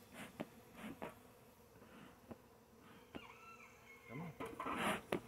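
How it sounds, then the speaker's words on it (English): Honey bees swarm over the top of a hive in Florida, with buzzing passes flying close by in bursts and a louder swell near the end, all fairly quiet overall. "There's just so many bees on this top."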